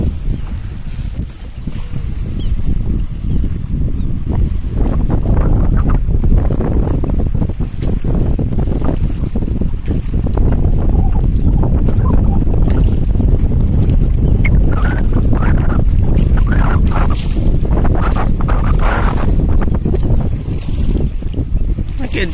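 Strong wind roars across the microphone on a fishing boat out on open water, a loud continuous low rumble with gusty buffeting and water sloshing, while someone talks intermittently underneath.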